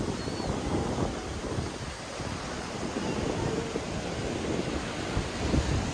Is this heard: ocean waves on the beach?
yes